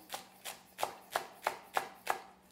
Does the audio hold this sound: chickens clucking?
no